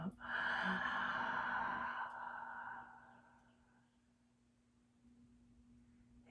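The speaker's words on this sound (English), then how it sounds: "Breathing in and out." A slow, deep breath during a guided meditation, a strong airy exhale fading gradually over a few seconds into near silence, with a faint steady hum underneath.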